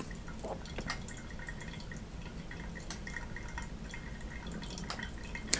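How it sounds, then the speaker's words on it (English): Faint, irregular drips of coffee falling through a thin paper filter in a Hario V60 pour-over, soft and close, with a quiet background hiss. "That paper is very thin, and so the water goes through pretty quickly."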